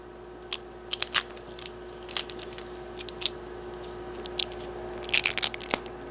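Cured resin 3D prints are peeled off the build plate, giving sparse, sharp crackling snaps and pops over a faint steady hum, with a denser cluster of crisp cracks toward the end.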